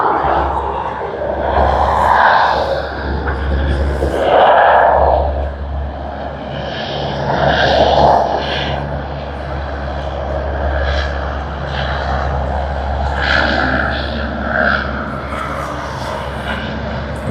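A Rex Airlines propeller plane at Sydney Airport, its engine drone steady and fairly loud at a moderate distance, with people's voices talking intermittently over it.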